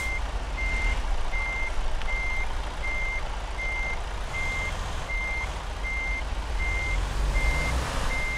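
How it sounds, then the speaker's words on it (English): A truck in American Truck Simulator backs up with a steady series of evenly spaced reversing beeps over a constant loud engine drone. "Let's get into reverse and get into this view."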